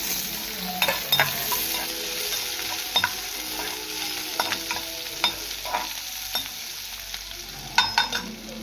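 Hot oil with popped mustard seeds sizzles steadily while a spoon scrapes and stirs in onion and curry leaves in irregular knocks and clatters, close by and without voices.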